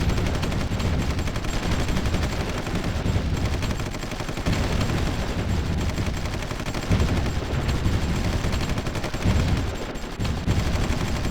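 Sustained battlefield gunfire with dense bursts and heavy rumbling impacts from an MLRS rocket strike in the strategy war game Supreme Ruler Ultimate, loud and continuous throughout with no pauses.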